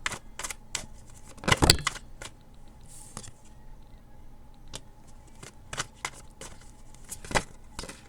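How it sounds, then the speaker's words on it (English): Tarot cards are handled and drawn from a deck with soft, close shuffling, flicking and sliding card sounds in scattered bursts, including one sharper slap, and no talk. "let's pull one of these cards"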